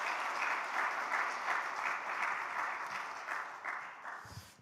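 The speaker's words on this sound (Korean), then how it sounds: "우리 박수로 환영하도록 하겠습니다." A congregation at a Sunday worship service claps in welcome as a pastor comes forward, the applause broad and steady at first, then gradually easing off.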